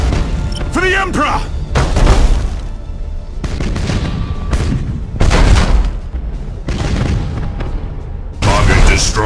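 Heavy booming explosions of starships in the space battle game Battlefleet Gothic Armada, several deep thundering blasts in bursts separated by brief lulls, loud and close.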